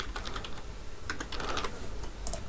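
Code typed on a computer keyboard, a quick run of close key clicks in uneven bursts, with no speech.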